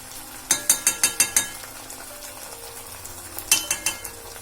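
Tomato ketchup being sautéed in a pan for egg rice, with two clusters of sharp rhythmic spoon taps against the pan over a faint background sizzle, close by.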